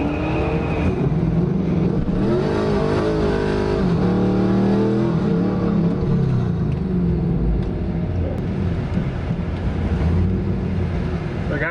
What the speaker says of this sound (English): once I do our burnout, I'll pull up and do a pretty good one in first gear